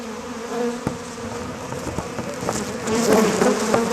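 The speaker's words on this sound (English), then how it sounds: "A lot of bees over here in the area here." A swarm of bees buzzes around a honeycomb left in the corner of a box during outdoor bee removal, a dense, continuous droning hum close to the microphone that swells louder toward the end.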